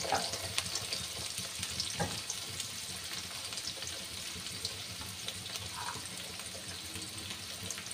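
Chopped onions with a pinch of salt fry in oil in a pan, a soft, steady sizzle heard from nearby with faint clinks and light stirring noises.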